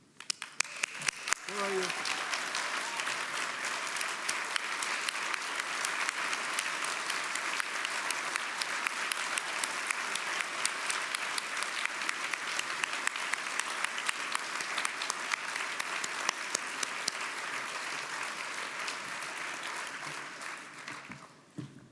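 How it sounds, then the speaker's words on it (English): A banquet audience applauds scholars and their families at a champions' dinner, a dense sustained round of clapping lasting the whole stretch, with a brief voice near the start. "I'd like to ask if the scholars and their families could please stand for a round of applause"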